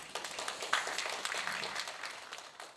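Audience applause for presenters and panelists at a public citizen forum at an Incheon art museum: a steady, moderately distant patter of many hands clapping, holding evenly for about three seconds.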